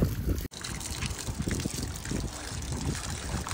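Water trickles and splashes steadily outdoors while plants are being watered, a constant close liquid dribble with no talking over it.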